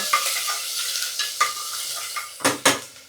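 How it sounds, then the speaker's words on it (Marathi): Crushed green chili, coriander and ginger hit a hot pan with a hissing sizzle, stirred with light scrapes, then two loud metallic clanks of a utensil against the pan near the end. "आपण मिरची कोथिंबीर आला ठेचून घेतला ते टाकूया"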